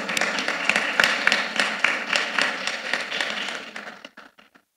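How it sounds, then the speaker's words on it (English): A man at a brewery company's annual general meeting claps for himself, a steady run of close, sharp hand claps that slows and thins into a few final scattered claps. "If you don't clap for me, I'll clap for myself."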